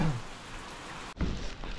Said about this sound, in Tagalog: super lakas ng ulan